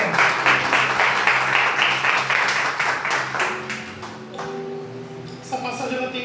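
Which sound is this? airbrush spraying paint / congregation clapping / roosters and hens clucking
congregation clapping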